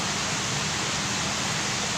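Running water splashes steadily beside a table outdoors, a constant loud hiss like a fountain or stream that masks everything else, with a faint hum of fans and music under it and no talking.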